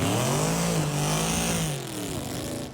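A Chevelle's engine revs while driving, a loud, close mid-pitched drone that holds steady and then shifts in pitch as it changes speed, with no voices over it.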